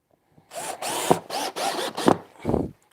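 A power drill driving worn, reused screws into a gargoyle letterbox, heard as five short whirring bursts with brief pauses between them, close and fairly loud with no talk.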